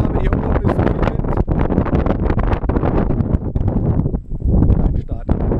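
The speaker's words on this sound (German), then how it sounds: "Wie ich schon erwartet habe, hier oben ist der Wind." Strong wind buffets the microphone on a hilltop paragliding launch site near Villena, Spain, a loud continuous rumble with gusty surges throughout.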